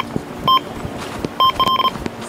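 An electronic carp-fishing bite alarm gives a short beep, then a quick burst of several beeps, loud and close over faint outdoor noise.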